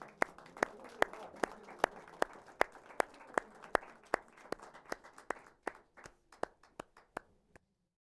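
A small audience at a live band show gives a round of applause, mostly sharp, evenly spaced single claps from a few hands that thin out and stop after about seven seconds.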